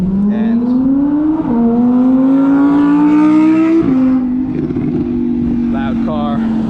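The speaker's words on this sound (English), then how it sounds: "loud car." A loud car engine rises and falls steadily through the whole stretch as it goes by nearby, with a dog walker speaking over it during a leash-training walk.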